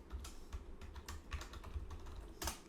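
Quick bursts of key taps on a computer keyboard as a folder name is typed, light and close, about a dozen presses in an uneven rhythm.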